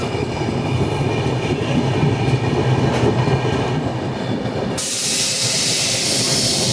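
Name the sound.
Mumbai Varanasi Mahanagari Express train passing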